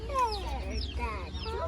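Tiny baby chicks in a farm supply store brooder peep in rapid, high-pitched chirps, several overlapping and fairly faint, with low background hum of the shop.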